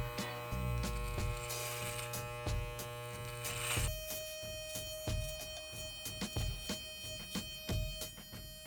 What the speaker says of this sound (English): I'm gonna start with a 1/2 inch. Right, and I'm just gonna simply start cutting it off